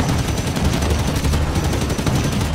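Dense, sustained gunfire from Halo 5 Warzone Firefight on an urban map, loud and continuous bursts of rapid automatic shots with no pauses, dominating the mix.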